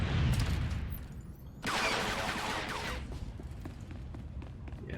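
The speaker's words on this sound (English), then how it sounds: "sweeping gunfire is just going to shred" Sweeping gunfire in the video game Star Wars: The Old Republic rattles out as a dense, sustained burst of blaster fire with booming impacts, loud and continuous over game background noise, with no talking.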